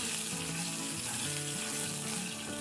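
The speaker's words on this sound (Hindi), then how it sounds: "हमारे पास ये आधा कप पीनट है, हम इसको फ्राई कर लेंगे" Half a cup of peanuts frying in hot oil for about thirty seconds, a steady loud sizzle with no talking, sounding somewhat watery.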